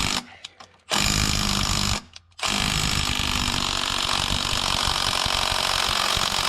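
A Milwaukee power tool, likely an impact wrench, works on the stubborn damper pulley of an Audi S6 with a dual-mass flywheel. It gives two short bursts and then a long, loud, continuous rattling hammer, close up and with no talk.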